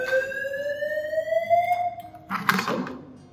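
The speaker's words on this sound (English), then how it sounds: "then evac." Australian occupant warning system fire alarm sounding its evacuation tone: a loud rising electronic sweep that climbs steadily, then a burst of broadband noise near the end, indoors with no talk.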